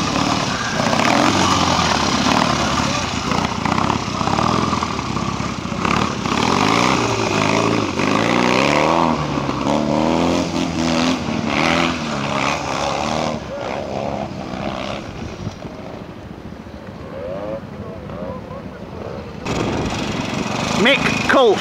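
Royal Enfield motorcycles in a pre-unit trial at a quarry, with engines revving and labouring at close to middle distance in a rising and falling drone, and voices talking over it throughout.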